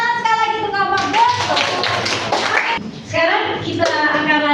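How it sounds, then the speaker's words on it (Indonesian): Audience clapping for a presenter, a short burst of hand claps in the middle of the room, with a voice speaking before and after. "Tepuk tangan sekali lagi untuk Kak Bagus."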